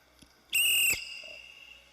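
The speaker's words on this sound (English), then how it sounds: "Whistle's been blown as the skaters head towards the front" One sharp, loud blast of a referee's whistle, under half a second long, sounds at a short track speed skating championship race, followed by a quiet hum.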